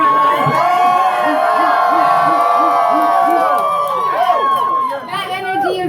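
Lively audience at a poetry performance cheering, whooping and chattering, a loud continuous crowd roar with excited voices throughout, swelling and shifting near the end.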